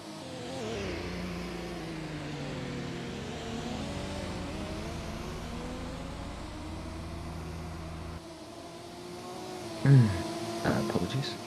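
Race cars in a racing game endurance race at Suwon drone steadily, engines rising and falling in pitch as they run close together, with a louder burst of revs and clatter near the end.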